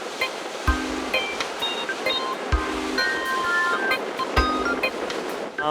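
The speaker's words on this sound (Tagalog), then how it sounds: "the waves in the beach break is more challenging" Surf breaks steadily on a beach break at San Juan, La Union, a broad continuous wash of waves with periodic low thumps, fairly loud and without speech.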